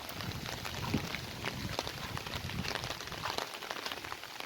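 Heavy monsoon rain falls steadily over rice fields in a Konkan village, a dense, even patter of drops on surfaces that stays constant and fairly close without any voices.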